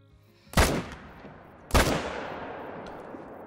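Two loud rifle shots from a whitetail deer hunting video game, about a second apart, each a sharp crack trailing into a long echoing decay, with no talk.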